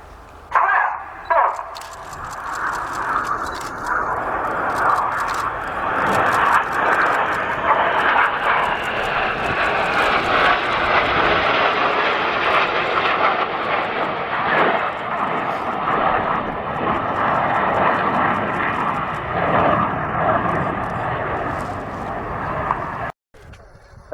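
Red Arrows jet aircraft, the synchro pair flying inverted in close formation at an air show, roar past loud and continuous for about twenty seconds, a broad jet rush that swells and holds before cutting off abruptly near the end.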